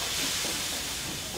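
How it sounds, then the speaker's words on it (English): Steam gushes in a ship's engine room as a steady, loud hiss that fills the whole stretch without a break, with no voices. "The engine room was filled with great gushes of steam."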